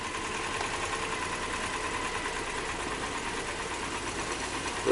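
A Nissan Maxima engine misfires, running rough and uneven, a steady mechanical drone with faint knocking, sounding close to stalling before a sudden surge at the end.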